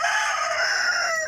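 A backyard fighting rooster crows loudly and close by, one long sustained cock-a-doodle-doo call standing alone and tapering off at the end.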